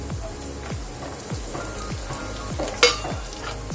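Raisins sizzle in a pan of hot fat for rava laddu, a close, steady frying crackle with a few stirring clicks and one sharper pop.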